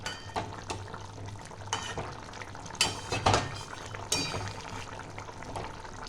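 A Bengali fish curry of hilsa and eggplant, with mustard oil added, is stirred in a pan: soft liquid sloshing and occasional utensil clinks against the pan, close and moderate.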